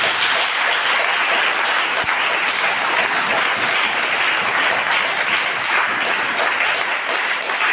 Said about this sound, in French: acclame très fort pour lui.